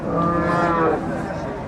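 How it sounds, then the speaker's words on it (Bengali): A pregnant cow, eight and a half months along, gives one loud, drawn-out moo close by at a cattle market, standing alone without talk. "সাড়ে আট মাসের প্রেগনেন্ট একটি গাভী"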